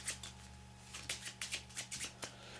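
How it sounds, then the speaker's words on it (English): A deck of playing cards is riffled and shuffled close up during a card trick, a series of soft rhythmic ruffling bursts over a quiet low hum. "I can even give them a shuffle if you want."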